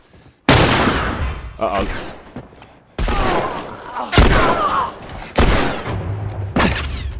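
Loud shotgun blasts from The Last of Us, about five heavy booming shots at irregular intervals, each followed by a short rumbling tail, with a brief spoken exclamation among them.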